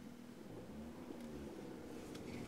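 A manual car pulls away as the clutch is released and the gas is pressed, a low engine rumble that rises slightly as it moves off, heard from inside at moderate level.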